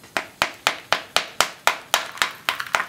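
A hammer strikes food frozen solid in liquid nitrogen, about ten sharp, cracking hits at a steady, quick rhythm, close and loud, each with a brittle crunch and no voices.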